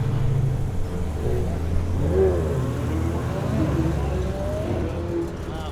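A Chevrolet Camaro drives by at a car meet, its low engine rumble rolling steadily past at moderate distance, with faint voices and crowd murmur in the background.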